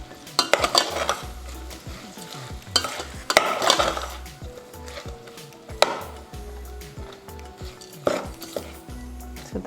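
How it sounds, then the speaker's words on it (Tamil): Garlic, onion and tomato sizzle and fry in a pan while being stirred, with repeated scraping and clattering of a utensil against the pot over a steady crackle; no talking. "ஸோ இன்னும் அந்த பொரியிற சவுண்ட் அப்படியே நல்லா சலசலன்னு கேட்குது"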